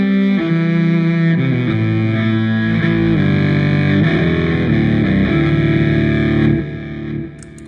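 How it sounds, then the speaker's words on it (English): An electric cello is played through an Archer overdrive pedal, giving a warm, mildly gritty sustained tone. It moves through several held notes at steady loudness, then cuts off and rings out near the end. "Got an archer here, which is kind of a little bit warmer and less fuzzy."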